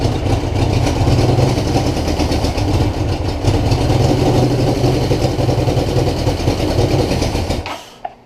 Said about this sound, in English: It's already warmed up, just sitting here chugging away like this.